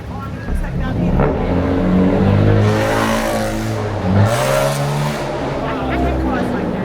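A car engine revs loudly on a New York City street in East Harlem, with rising and falling pitch sweeps across several seconds, close and dominant, while people talk nearby.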